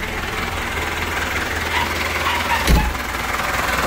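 A 1982 Toyota BJ40 hardtop 4x4 with a diesel engine runs steadily with a low rumbling drone, close by and fairly loud, with a brief knock-like thump near the end.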